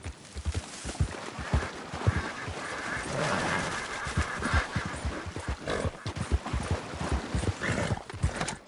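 Horse hooves clip-clop steadily and fairly loudly as a horse is ridden in Red Dead Redemption 2. The hoofbeats keep an even, rhythmic pace over ambient game sound.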